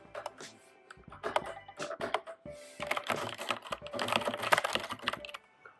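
Fast typing on a computer keyboard, with dense bursts of rapid, close key clicks and clacks interrupted by brief pauses, the rhythm quickening toward the end.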